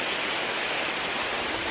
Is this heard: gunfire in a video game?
no